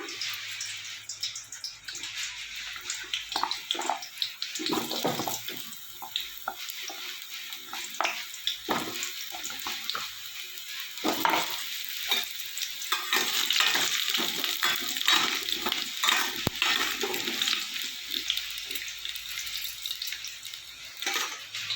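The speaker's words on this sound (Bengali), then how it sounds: "তেলটা আমার গরম হয়ে গেছে আলুগুলো দিয়ে দিলাম" Potatoes frying in hot oil in a pan: an ongoing bubbling sizzle with frequent stirring and scraping, steady and close for over twenty seconds.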